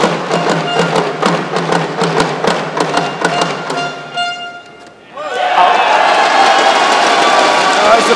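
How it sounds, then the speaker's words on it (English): A badminton team from Puchong bursts into a loud, close group cheer after winning the first point of a league final match. A roaring shout follows a brief lull, and a commentator's voice can be heard earlier. "a big team cheer from the Puchong players"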